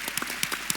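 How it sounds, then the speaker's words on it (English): A few distinct hand claps from an audience, spaced irregularly and fairly faint, with no talking. "Maybe we should clap hands for you."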